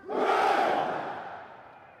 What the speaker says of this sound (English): 3 cheers for His Majesty the King and Her Majesty the Queen